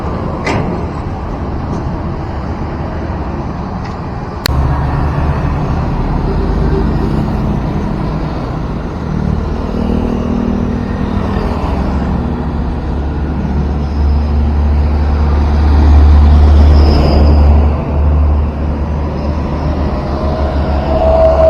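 Heavy machinery rumbles steadily at a flyover foundation concrete pour on the Padang–Sicincin toll road, with two concrete mixer trucks running; a sharp knock near the start, then a louder, continuous low engine drone with no talk.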